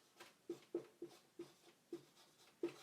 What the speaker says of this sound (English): I'll write that in a darker color.